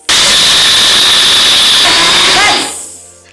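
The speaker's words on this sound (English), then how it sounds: "Are you guys ready for the ASMR of the blender?" A kitchen blender runs at full power with a loud, steady roaring whir, then winds down and fades as it switches off near the end.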